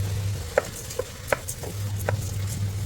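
Rice is stirred in a pan for ghee rice, giving a few soft scraping clicks over a low background hum.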